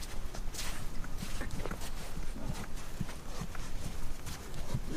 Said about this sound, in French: regardez le moment où le cheval va se mettre au trot